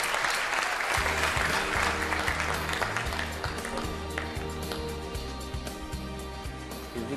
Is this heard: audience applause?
yes